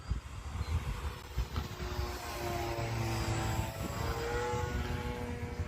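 A radio-controlled propeller airplane flies overhead, its whining motor and prop buzz rising and falling in pitch as it passes, fairly distant and faint against outdoor background noise.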